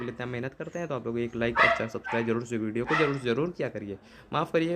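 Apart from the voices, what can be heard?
dog barking in the house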